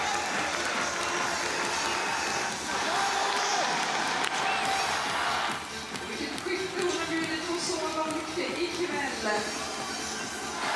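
A home crowd at a biathlon race in Stockholm claps and cheers in a dense, loud wave that drops to lighter scattered applause partway through, with a commentator talking over it.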